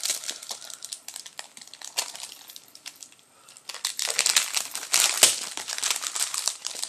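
Crinkly packaging from a beauty box being opened, crackling and rustling close up in quick bursts, with a short pause midway before louder crinkling resumes.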